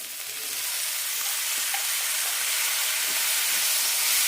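Ridge gourd curry stirred and sautéed in a pan, giving a steady, close sizzling hiss with faint scraping from the stirring, with no talk.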